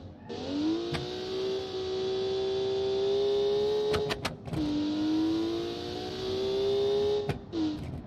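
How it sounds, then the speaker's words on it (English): A car engine in the Automation game revs in two long, rising pulls, each dropping off sharply, with a few sharp pops in between as the exhaust backfires and shoots flames, loud and close. "When it backfires or when it shoots flames in a constant way, it sounds like drums."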